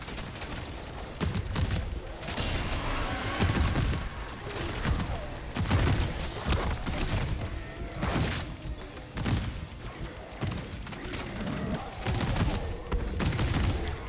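Rapid, repeated gunfire from Call of Duty Zombies blasts at a large zombie in dense, loud bursts that run almost continuously, with faint voices underneath.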